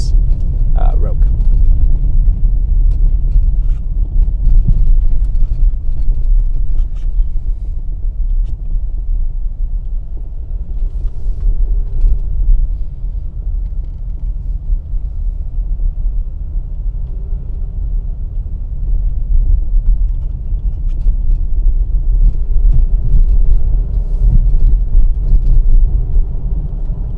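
A Nissan Rogue SV on a rough road gives a deep, continuous rumble of tyres and cabin noise, with people talking throughout.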